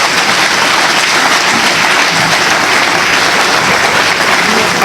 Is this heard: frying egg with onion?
no